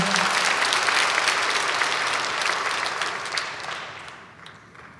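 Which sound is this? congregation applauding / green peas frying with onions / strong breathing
congregation applauding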